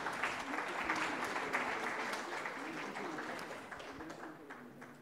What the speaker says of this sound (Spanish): felicidades, un aplauso nuevamente.